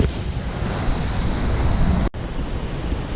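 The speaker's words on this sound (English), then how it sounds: "as we leave you with the final waterfall of the day, Upper Horsetail, also known as Ponytail Falls" Upper Horsetail Falls, also called Ponytail Falls, in Oregon's Columbia River area pours with a steady, loud broadband roar of falling water, close and unbroken apart from a brief dropout near the end.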